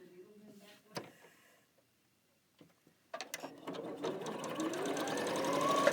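A sewing machine stitching rows of quilt block pieces for a churn dash or wedding ring sampler block, with a few clicks and handling noises before a steady whirring run that builds and holds to the end.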